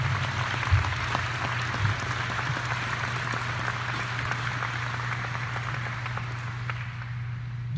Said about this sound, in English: So a round of applause for Brittany